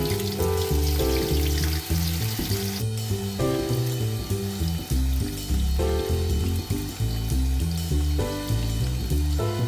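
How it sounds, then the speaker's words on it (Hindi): Homemade crispy chips fry in hot oil, a steady sizzle beneath loud rhythmic background music that plays throughout. "ऑयल गरम करें और उसमें फ्राई करें"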